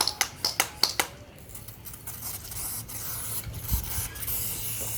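A quick run of sharp spritzing bursts from a spray bottle misting water onto potting soil, then softer rubbing and hissing noises.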